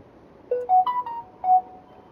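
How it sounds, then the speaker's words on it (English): Short electronic phone beeps, a quick rising run of three tones and then a fourth, clear and moderately loud against quiet background. "Shut up, phone."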